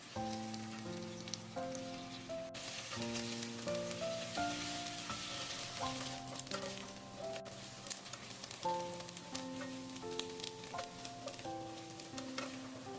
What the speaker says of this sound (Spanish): Fríelos a fuego lento hasta que el tofu esté dorado por todos lados.